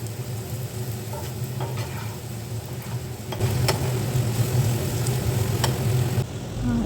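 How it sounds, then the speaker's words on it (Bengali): Vegetables stir-fried with black pepper for homemade egg and vegetable chowmein sizzle steadily in the pan, close and moderate, growing louder partway through with scattered clicks from stirring. "তো আমি এখানে সবজিগুলো ভাজার সময় একটু গোলমরিচ দিয়ে দিলাম, আর সেটাকে ভালো করে আমি নাড়িয়ে নিচ্ছি"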